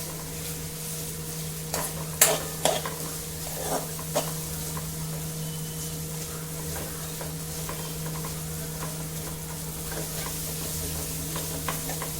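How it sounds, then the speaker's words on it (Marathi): Ground masala paste roasting in oil with soaked peas in a pan for veg pulao, a steady low sizzle with a few sharp scraping stirs early on, close and alone. "हा मसाला त्यामध्ये छान भाजून घ्यायचा।"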